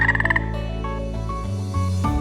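A frog croaks in a rhythmic pulsing burst at the start, then gives way to a steadier, musical tonal sound; loud and close, with no talking.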